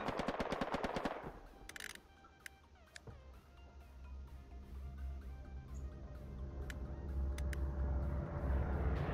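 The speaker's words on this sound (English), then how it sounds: "Oh, you can already hear gunfire, guys." Gunfire in the World War II shooter Hell Let Loose: a rapid burst of machine-gun shots up front, then scattered distant single shots over a rising low battlefield rumble.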